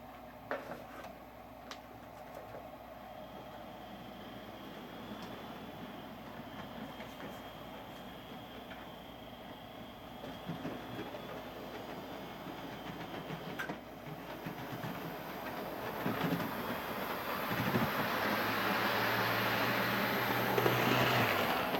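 HO scale Athearn Big Boy 4014 model steam locomotive running on DC power, a steady low mechanical rumble and whir that grows louder and busier toward the end as it speeds up, with no talking.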